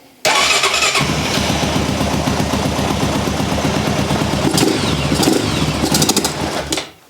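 A Honda TRX400 quad with the choke closed catches and starts, then runs loud and steady up close with a rough, busy idle for several seconds before cutting off.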